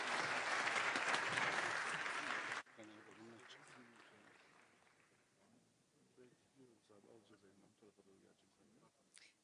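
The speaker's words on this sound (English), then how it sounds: "Please join me in giving them a round of applause." Audience applause for a panel of moderator and panelists at a NATO leaders' summit in Turkey, loud and sustained at first, then cutting abruptly to lighter scattered clapping and murmured talk in the hall.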